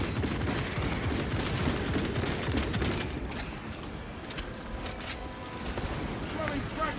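Rapid gunfire from a Stalker bolt rifle in a video game cracks out in a dense, continuous barrage among other battle noise, fairly loud and sustained, with a muffled voice underneath.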